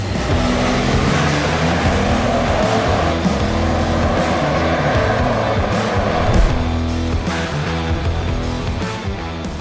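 A Lexus GX 550 SUV drives along with a steady, loud engine and road roar throughout, a broad continuous rumble with a brief bump near the middle and no talking.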